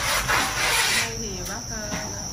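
Crickets in a farm box make dense rasping, rustling chirps, close and fairly loud, with scratchy scraping at the start fading to softer chirring.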